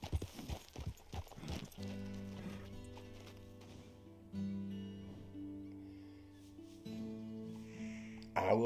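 Horse hooves clip-clop in Red Dead Redemption 2 during free roam, a quick run of sharp strikes at first giving way to softer, steadier steps over a sustained musical drone, with a brief whinny-like sound.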